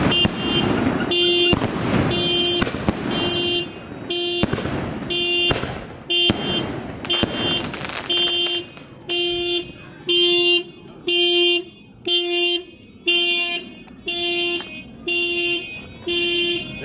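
Fireworks boom and crackle in a dense burst over the first eight seconds, then several car alarms cycle through loud repeating tones and honking pulses on a street during a Fourth of July celebration.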